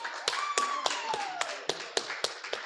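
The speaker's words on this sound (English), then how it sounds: "First time ever arriving in a room to applause" An audience at a live podcast taping at a fan expo applauds a late guest, a sparse run of loud, separate claps at an uneven pace, with a faint whistle-like tone sliding down early on.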